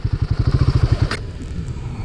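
A Royal Enfield Himalayan 450 motorcycle engine chugs in close, loud, rapid pulses for about a second, then stalls abruptly with a clack, leaving a faint low rumble.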